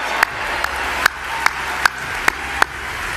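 A few people clapping in celebration of India's cricket World Cup win: about seven sharp, separate claps at uneven intervals, crisp and close over a steady background hum, with no voices.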